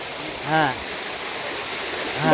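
Water pours steadily at Puli waterfall, a continuous loud hissing roar throughout, with a voice briefly rising above it twice.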